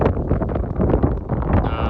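Wind gusts across the top of a mountain pass in Lofoten, Norway, a loud rough buffeting rush battering close against the microphone in uneven surges.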